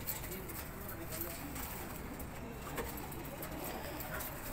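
Soft cooing of pigeons in a constant, noisy outdoor background, faint and somewhat distant, with occasional light shuffling.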